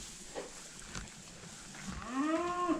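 A male goat calls out toward cows across the road, its long, wavering bellow rising loudly near the end after a few quieter calls, with outdoor farm background and no talk.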